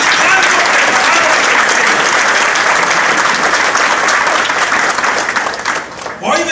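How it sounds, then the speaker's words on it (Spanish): A charismatic Catholic evangelization congregation bursts into loud, sustained applause during a worship gathering. The dense clapping fills the room at full strength, then thins briefly near the end as a voice cuts in. "Den otro aplauso al Señor"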